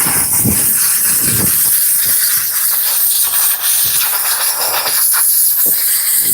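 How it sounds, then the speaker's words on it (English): A loud, steady hiss from a steam cleaner on a car interior runs throughout, broadband and continuous, with faint clicks and knocks beneath it. "We'll go ahead and just steam it."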